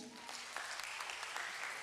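A short burst of clapping from comedy show audience members in their twenties, a brief scattered patter at moderate level with a voice faintly mixed in.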